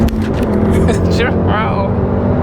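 A car on the move, its road and engine noise forming a continuous low rumble, with people chatting over it inside.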